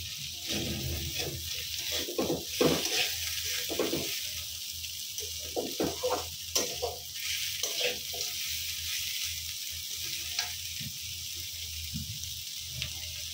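Bitter gourd frying in a pan with little oil and no spices, a steady soft sizzle underneath scattered stirring clinks and scrapes, with a faint watery hiss throughout.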